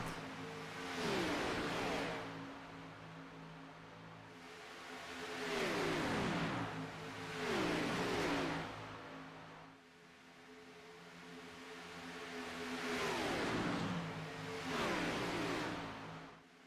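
NASCAR race cars roar past at Daytona in repeated waves, each pass swelling loud with rising and falling engine pitch, then fading before the next group sweeps by, with no voices.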